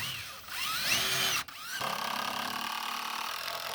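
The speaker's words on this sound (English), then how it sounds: "Putting it together with screws" Power drill driving screws into wooden raised bed boards, two short whirring bursts that rise in pitch as the screw bites, a brief pause between them, close and clear.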